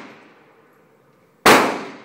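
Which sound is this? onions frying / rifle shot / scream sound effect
rifle shot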